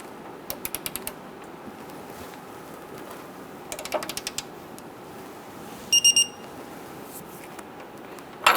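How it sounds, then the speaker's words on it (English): Torque wrench tightening the front lower control arm bolt on a 2014-2018 Subaru Forester to spec, with a few soft bursts of ratchet clicking, then a sharp click or two, in a quiet garage. "Now we are going to torque our last part of the control arm to 70 foot-pounds."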